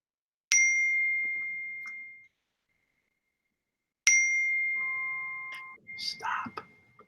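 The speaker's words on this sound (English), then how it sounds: "someone's phone is dinging" A notification ding from a phone or computer sounds twice during an online school board meeting: a bright, ringing chime that decays slowly, then a second one a few seconds later, followed by brief voices.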